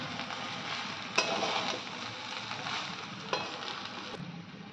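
Egg chicken fried rice being stir-fried in a hot pan, a steady close sizzle with a couple of sharp clanks from the utensil against the pan, no talking.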